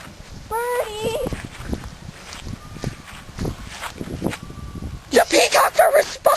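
Peacocks calling outdoors: a few loud, harsh, rapid cries burst out near the end, after a stretch of quiet footsteps, rustling and a voice calling out.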